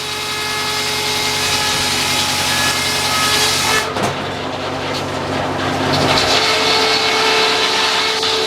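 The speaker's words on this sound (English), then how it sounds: "Making poplar sawdust." Sawmill blade cutting through poplar wood at a show, a loud sustained mechanical whine with engine drone, briefly dipping midway before resuming, close and continuous, no talking.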